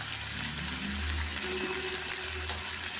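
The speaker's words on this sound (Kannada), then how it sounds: "ಸ್ವಲ್ಪ ಕರಿಬೇವಿನ ಸೊಪ್ಪು. ಸ್ವಲ್ಪ ಹಿಂಗೆ ಹಾಕ್ತೀನಿ." Curry leaves dropped into hot oil for a cowpea palya give off a steady, loud, hissing sizzle that runs the whole time over a low rumble.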